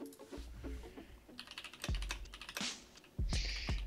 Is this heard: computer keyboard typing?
yes